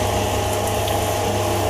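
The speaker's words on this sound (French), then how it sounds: "Voilà donc sorti la petite scie à ruban pour couper notre morceau" Small Chinese-made band saw cutting a piece of metal stock, a steady close mechanical hum and drone with no breaks over a short stretch.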